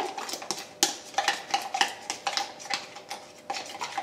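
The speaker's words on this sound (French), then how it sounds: "On remue jusqu'à obtenir une pâte." A spoon or whisk scrapes and clinks steadily against a bowl while beignet batter is stirred, with irregular, fairly close taps and a soft ticking rhythm throughout and no talking.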